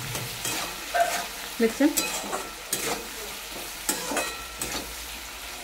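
Potatoes and onion frying in a pan for a fish, potato and okra dish, stirred with repeated scraping and clattering strokes over a steady sizzle, close and clear, with a brief spoken word.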